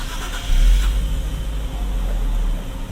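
A 2024 Nissan Z's 3.0-litre twin-turbo V6 turns over and catches after a push-button start, swelling into a low, steady rumble close by, then settling into a smooth idle.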